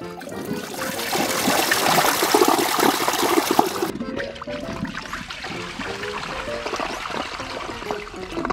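A toilet flushes during a comparison test of toilet bowl coatings, from brands such as TOTO, HCG, Caesar and KOHLER. A loud, close rush of water settles after about four seconds into a softer trickling refill.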